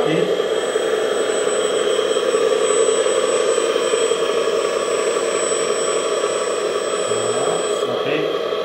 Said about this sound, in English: This bucket is controlled by hydraulic system and lift up. So now I will lift up the bucket.